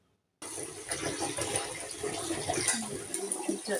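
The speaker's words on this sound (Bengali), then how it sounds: "চালটা ধুয়ে নিচ্ছি" Water splashes and swirls as rice is washed by hand in a pot, a close, continuous sloshing that starts abruptly after a moment of silence.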